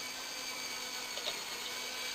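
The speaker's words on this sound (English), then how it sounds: "As I'm running the drill, I push in gently to make sure the wire stays coiled tightly." A power drill runs steadily while coiling kiln heating element wire on a jig, giving a continuous whirring motor drone with a faint hum underneath and no speech.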